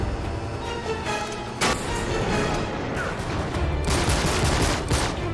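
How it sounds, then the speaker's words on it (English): Gunfire from the PlayStation 3 action game Uncharted 3: dense, loud bursts of rapid shots and booming fusillade-like reports, with sharp louder volleys standing out near the start and toward the end, continuous throughout. "I always thought the gun sound effects were a lot better in Uncharted 3"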